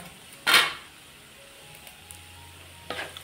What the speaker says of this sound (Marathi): खोबरं पण चांगलं परतून घेऊया.